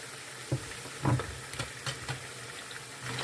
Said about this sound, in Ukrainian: І смажуємо до того стану, поки цибулька стане така рожево прозора.